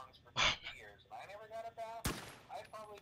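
Gunfire in the BONELAB video game, a couple of sharp loud shots cutting through close talking voices.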